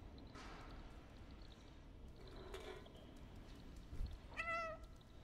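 A cat meows in the video game Stray, several short soft calls spread across the moment and a clearer rising meow near the end, faint and without talk.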